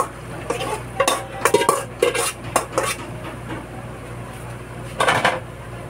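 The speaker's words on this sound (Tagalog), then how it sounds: "Tapos lalagay ko na yung munggo." Mung beans go into a cooking pot for a chicken and coconut milk stew, with clattering utensil and pot sounds in quick bursts, then a pause and one more short clatter over a low background hum.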